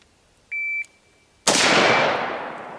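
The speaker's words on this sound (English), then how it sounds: "Ready position, fire one shot." A shot timer gives a single steady electronic beep, then about a second later one loud rifle shot cracks out from the ready position and rings away in a long decaying tail, with no voices.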